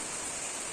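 Steady light rain falls in a short, even wash of hiss, close and moderately loud, with no voices over it.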